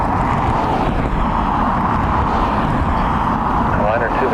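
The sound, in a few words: aircraft at Dublin Airport lifting its nose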